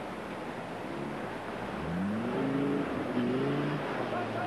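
A rally car engine works through a rocky riverbed at the 1995 Transsylvania Trophy, a steady mid-distance drone with throttle rising in the second half and wavering revs under faint commentary.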